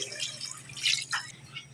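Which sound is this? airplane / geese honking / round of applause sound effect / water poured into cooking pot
water poured into cooking pot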